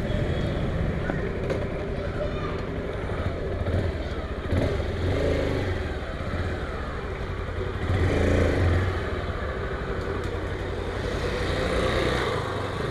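An NK 150 dirt bike's engine runs steadily nearby with a continuous rumbling drone that swells slightly now and then, while a person talks over it.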